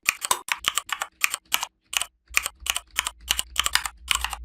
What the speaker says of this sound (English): you can hear the sound, which is exactly the same as the mechanical keyboard sounds